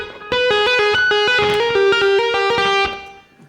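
Distorted electric guitar finger tapping on a Les Paul from a solo: a quick, even string of bright tapped notes, loud and close, ending in a brief decay.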